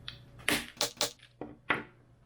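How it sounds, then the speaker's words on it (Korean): A hammer striking an Insta360 One X polycarbonate lens protector cap, six sharp plastic knocks in an uneven rhythm, close and crisp with a quiet background. "망치로 때려도 전혀 깨지지 않고요"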